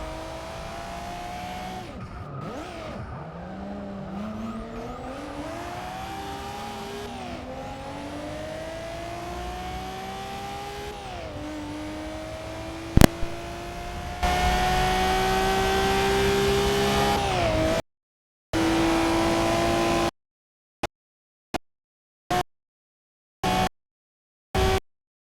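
A 2002 Nissan Skyline GT-R racing in Forza Motorsport 6, its engine revving through rising gear pulls with tire squeal, then the sound cuts out in several abrupt dropouts near the end.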